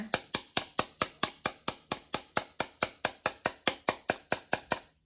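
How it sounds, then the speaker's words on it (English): Steady, evenly spaced sharp taps of a hammer driving a nail into a block, about four per second, crisp and close with no talking. "See, I tap it with the hammer."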